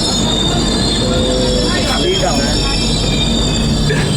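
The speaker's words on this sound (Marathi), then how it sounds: "ही ट्रेन आहे" A moving Delhi to Mumbai passenger train, heard from an open carriage doorway, gives a loud, constant rumble with metallic wheel squeal, and people talk nearby.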